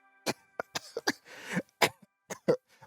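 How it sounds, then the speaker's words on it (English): Short bursts of coughing mixed with laughter from a single nearby person, several sharp irregular hacks with a brief breathy stretch in the middle, then quieter fits at the end. "I was laughing and coughing at the same time."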